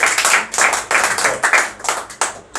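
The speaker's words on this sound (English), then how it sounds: "Clap for Navneet," A small group in an English-speaking class claps for a student named Navneet. The hand claps are loud, close and slightly uneven, coming in quick bursts with short gaps over about two and a half seconds.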